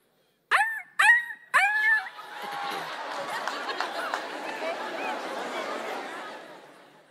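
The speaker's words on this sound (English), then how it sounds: "Dog" A dog gives three loud close barks in quick succession, then a crowd's murmur and chatter swells and carries on, part of a sound-guessing game at a talent show.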